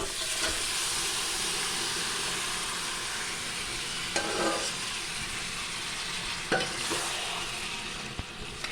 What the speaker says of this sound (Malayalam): നമുക്ക് തട്ടിയിട്ട് വറുത്തെടുക്കാം.